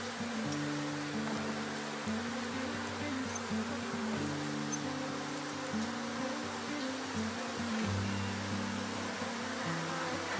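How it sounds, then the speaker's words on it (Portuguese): A honeybee swarm hums steadily in a low, dense drone that holds for the whole stretch, close and even in level, with no voices over it. "Agora sim o enxame tem condição de continuar o seu desenvolvimento."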